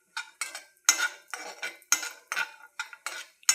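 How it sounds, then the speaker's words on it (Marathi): Cashews roasting in a pan for a sweet, stirred with a metal utensil: a quick series of about a dozen crisp scrapes and clinks, close and distinct, with little sizzle and no talking. "काजू पण गोल्डन ब्राऊन होईपर्यंत भाजून घ्यायचा।"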